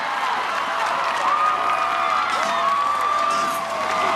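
A crowd cheers and whoops steadily at an American Ninja Warrior qualifying course, a continuous roar of voices with faint whistles rising through it, no single voice standing out.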